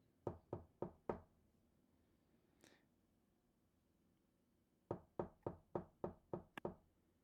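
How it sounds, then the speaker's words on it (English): Knocking on a front door: a quick burst of four raps, a pause with a faint rustle, then a longer run of about seven sharp knocks, close and crisp. "I'll knock."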